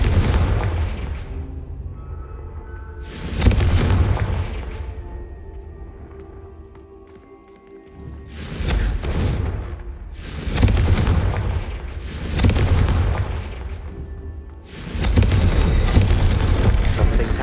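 Confringo blasting spells in Hogwarts Legacy go off as a run of heavy booming explosions, five or six bursts spaced a second or two apart, each with a rumbling low tail, loud and close, no speech.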